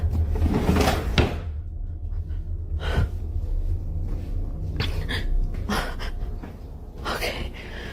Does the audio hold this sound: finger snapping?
no